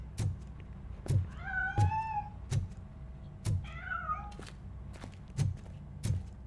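A cat in the game Robocop: Rogue City meows twice in drawn-out, wavering calls over a series of dull, evenly spaced thumps.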